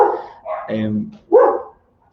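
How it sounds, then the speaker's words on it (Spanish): A small dog barks a few times nearby in quick, sharp yaps, then falls quiet. "el perrito de un vecino está ladrando latosamente"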